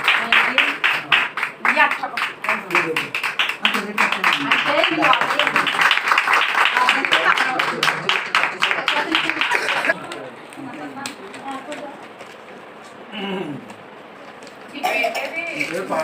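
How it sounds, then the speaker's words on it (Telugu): Guests at a Christian wedding invitation release clap loudly and quickly for about ten seconds, then the applause drops away to a quiet room with brief voices and a return of some clapping at the end. "చప్పట్లు కొట్టండి."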